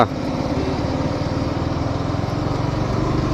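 Several KTM motorcycles racing past during a group ride, a steady loud engine drone with a rapid pulsing rhythm that holds through the whole clip, heard up close.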